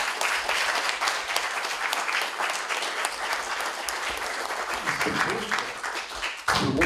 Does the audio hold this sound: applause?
yes